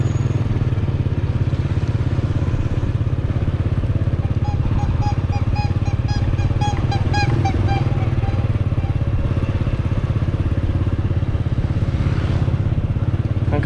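A motorcycle is ridden through Salavan town in Laos, its engine a loud, steady, close drone with continuous wind rumble, and a voice speaks now and then over the noise.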